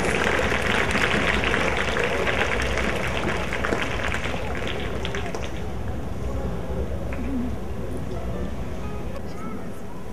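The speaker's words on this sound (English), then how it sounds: "So let's give her a loud round of applause." Dense, loud applause and crowd noise at a school house badge ceremony, a continuous roar of clapping that holds steady and tapers slightly toward the end.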